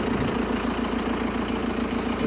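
An MTZ tractor's engine idles in a steady, even drone with a constant low hum and no change in pace throughout.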